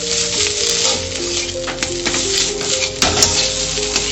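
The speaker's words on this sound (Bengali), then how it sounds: "যতক্ষণ জল না শুকাবে ততক্ষণ কিন্তু এভাবে নাড়তে থাকবো" Mashed long beans sizzle and hiss as they are stirred steadily in a hot karai until the water cooks off, with a continuous close frying crackle and faint scraping throughout.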